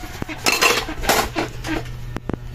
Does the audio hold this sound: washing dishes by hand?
yes